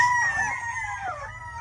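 A Boston Roundhead fowl on a farm gives a loud, drawn-out call that bends downward over about a second, close and clear above a low rumble.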